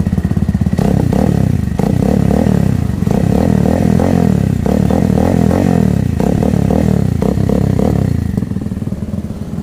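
A QJ Motor SRV200 motorcycle fitted with an R11 slip-on muffler and silencer with a dB killer idles and revs up close, a loud, steady, throaty exhaust rumble with repeated throttle blips and no talking.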